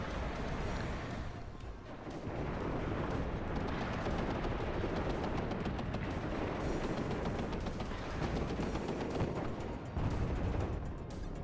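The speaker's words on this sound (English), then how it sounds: "Mortars now being used to clear this area as well." Mortar and gunfire on a battlefield in the real-time strategy game WARNO, a dense, continuous roar of crackling shots and booming impacts that stays loud throughout with no clear gaps.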